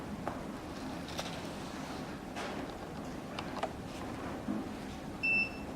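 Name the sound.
device self-test beep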